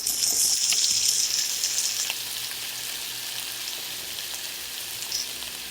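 Potato chunks fry in ghee with shallots and scallions over medium-high heat, a dense, close sizzle that crackles loudly at first and then settles into a steady hiss, with faint stirring and no voices.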